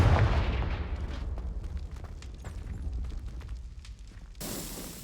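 A Confringo blasting spell goes off in Hogwarts Legacy, a deep rumbling explosion that fades into scattered crackling pops, followed by a sharp burst near the end; no talk over it.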